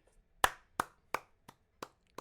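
Six sharp hand claps, evenly spaced about a third of a second apart, close and loud at first then slightly softer, with no talking.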